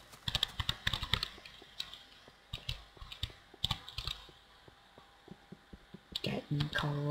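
Keyboard keys and mouse buttons clicked in quick bursts while playing Minecraft, crisp close tapping in clustered runs with short pauses, a low hum under it and a brief voice near the end.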